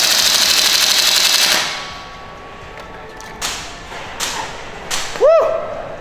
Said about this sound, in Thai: เราจะมาลองฟูลออโต้นะครับว่าปืนระบบจะเป็นไงบ้างนะครับ